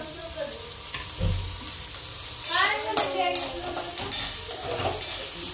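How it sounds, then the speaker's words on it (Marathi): Onion frying in oil in a pan, a crackling sizzle under intermittent stirring and utensil clatter, with voices talking over it in a home kitchen. "हे बघा इथे टाकलेला मी तेलामध्ये कांदा फ्राय करायला"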